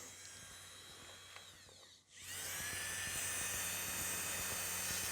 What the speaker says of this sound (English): now we have to put our drill into the reverse